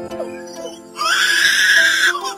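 A lyrebird mimics a crying baby with a loud, strained wail that rises and holds for about a second, following a few fainter whimpering tones.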